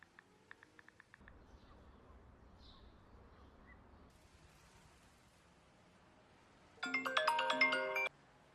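A mobile phone ringtone chimes for about a second near the end, a bright electronic melody over a quiet, hissy background.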